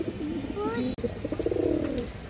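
A khaki male high-flyer pigeon coos in short, rhythmic throaty bursts close by, with a brief sharp click midway and someone talking in the background.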